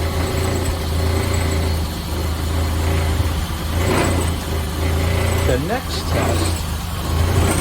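A VW Cabriolet engine idles steadily nearby with a low, even hum, while a person talks over it throughout.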